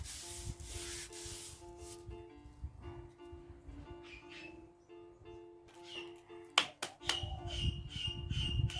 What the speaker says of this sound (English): So now we've got all of them sanded.